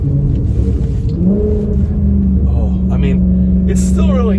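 A Maserati 4200 CambioCorsa engine hums and rises in pitch as the car corners hard, a steady rumbling drone with a climbing note partway through, and someone talks over it.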